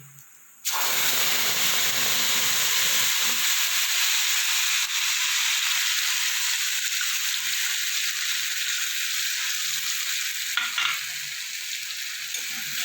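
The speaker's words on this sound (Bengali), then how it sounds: "ফোড়ানো দেবো জিরে একটু সামান্য তার সাথে এই যে মশলাটা গুঁড়ে রেখেছিলাম গুঁড়ো মশলা আদা কাঁচা লঙ্কা তার সাথে এটা দিয়ে দেবো" Cumin, ground spices, ginger and green chili hit hot oil for tempering and set off a sudden loud sizzle. The steady frying hiss runs on close up, with faint stirring beneath it.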